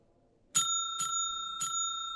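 A small bell rings three times, bright and evenly spaced, with a brief shimmering ring after each strike, a sound effect in a Christmas Carol radio play heard against near silence.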